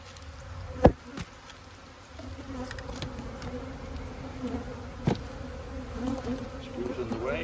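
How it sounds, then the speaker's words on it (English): Honeybees hum steadily inside an opened hive, a soft continuous buzz with a few sharp knocks and clicks from frames being handled, close and fairly quiet, with no talk. "I want all my bees working."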